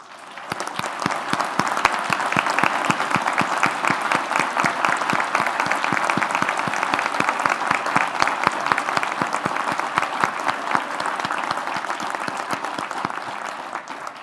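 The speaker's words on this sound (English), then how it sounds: "let's give them a round of applause" An awards ceremony audience for cancer research grants applauds steadily, a full, even roar of many hands clapping that swells and then gradually fades over about fourteen seconds.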